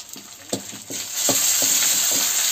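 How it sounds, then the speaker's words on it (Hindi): Bhatt beans roast in a pan for chutkani, a gentle sizzle with scattered stirring clicks that grows into a louder, steady frying hiss. "अब हल्के हल्के हम अपने भट्टों को भुनेंगे"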